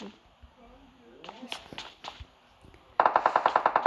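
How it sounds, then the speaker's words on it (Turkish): Rapid automatic gunfire in PUBG bursts out in a steady rattling stream after a stretch of talk and scattered clicks, loud and close. "Silah sesleri geliyor."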